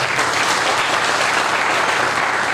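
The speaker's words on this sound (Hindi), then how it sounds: "तालियां बजाएं उनके लिए जाए" Loud, steady audience applause at a mathematics conference in a university hall, a dense continuous clatter of many hands lasting a couple of seconds without talk.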